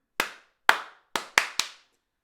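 Five sharp hand claps ring out alone in an irregular rhythm, crisp and close with short decaying tails, the last three coming in quicker succession during a sing-along clapping game.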